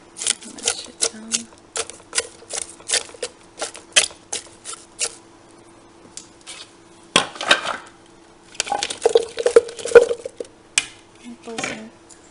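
Blended celery pulp mashed down through a mesh strainer: rapid, sharp tapping and clinking strokes in quick regular rhythm, then scraping and rattling, with a voice speaking briefly.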